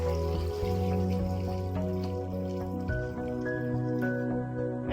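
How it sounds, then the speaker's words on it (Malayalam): Water poured into a pot of cassava with a rising, ringing fill sound, its pitch climbing steadily as the vessel fills. "നമുക്ക് ഇതിലേക്ക് കുറച്ച് വെള്ളം ഒഴിച്ചു കൊടുക്കാം"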